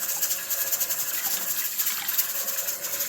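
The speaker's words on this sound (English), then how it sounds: "rinse this out, keep filling up" Tap water runs steadily into a container being filled to rinse out homemade liquid laundry soap, a continuous close hissing gush with no talking.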